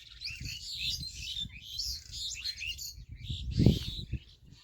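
Birds chirp and tweet in village farm fields, a steady stream of small high calls at a moderate distance, over a low rumble of wind and handling noise with a brief louder thump near the end.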